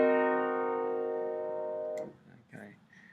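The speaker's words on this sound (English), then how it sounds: "Okay, half diminished 7." A C half-diminished seventh chord rings out with a steady, sustained tone for about two seconds, then cuts off as a voice begins speaking quietly.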